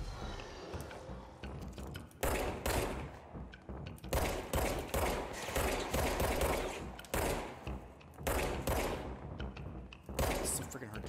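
Gunfire in the video game Control comes as repeated heavy blasts, one every second or so, with booming thuds and rattling mechanical clatter, loud and close over a busy game backdrop.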